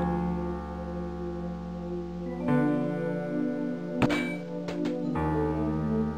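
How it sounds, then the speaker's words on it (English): Strength-tester bell at a fairground show-your-strength machine in the Amiga game Union City Conspiracy, with a sharp metallic clang followed by a couple of lighter dings over a steady droning background. "It's used to strike the drum and send the weight up to ring the bell."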